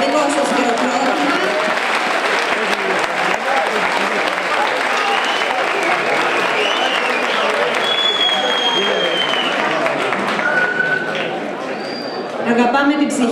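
A concert audience gives loud, sustained applause as a singer is welcomed onstage at an album launch, dense clapping continuing for several seconds with crowd noise and a voice briefly heard over it.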